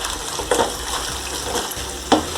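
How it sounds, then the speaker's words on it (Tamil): Fried idli stirred into sauce in a pan, a soft sizzling bed broken by a few sharp scraping strokes of a spoon against the pan, close and fairly loud. "இப்போ நம்ம ஃப்ரை பண்ணி வச்சுருக்க இட்லி எல்லாம் அதில் சேர்த்துருங்க"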